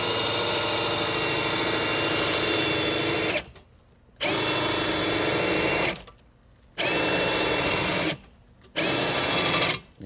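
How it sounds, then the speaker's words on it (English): A RIDGID FlexShaft drain cleaner spins its cable and brush through a toilet, a loud, steady motorized whirring with a rattling edge that runs in bursts and cuts out three times for short pauses. "Now we'll show how you can spin through the toilet and effectively clean without damaging the walls."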